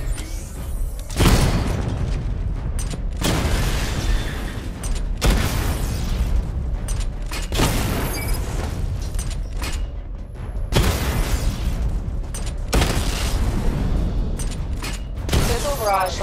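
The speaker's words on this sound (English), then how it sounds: "Charge the missile barrage to level 2 to destroy up to 4 targets at once." Missile barrage explosions in the Batman: Arkham Knight video game, a series of heavy booming blasts roughly every two seconds over a constant mechanical rumble, loud and close, with faint voice-like sounds mixed in.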